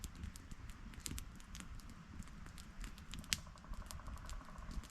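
An outdoor campfire, just fed with smaller pieces of wood and flaring up, gives off soft, steady crackling and sharp little pops over a low background rumble.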